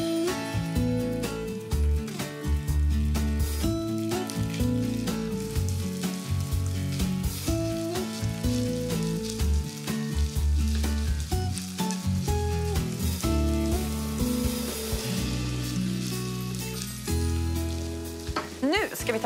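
Canned tuna and small capers sizzle and fry with chopped onion in a hot pan, a steady crackling hiss that runs loud and continuously for the whole stretch, with occasional stirring scrapes and no talking.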